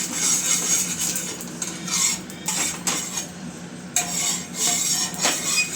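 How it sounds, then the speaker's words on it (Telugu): Oil is spread with a metal utensil across a hot pan before making wheat dosa, giving continuous close scraping and clinking against the metal surface with a light sizzle underneath, fairly loud and without talk. "ఇప్పుడు పెంక కాగిన తర్వాత ఇలా నూనె వేసుకోవాలి. ఇట్లా స్ప్రెడ్ చేయాలన్నమాట."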